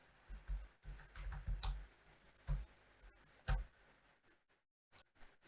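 Typing on a computer keyboard indoors, soft irregular bursts of key clicks with short pauses between, close and fairly quiet.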